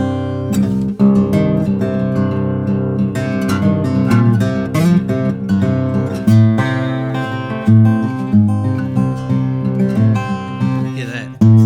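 A Martin 00-15M acoustic guitar, nearly new, played in a studio: strummed chords and picked notes ring out in a steady, continuous passage, close and full, with no voice over it.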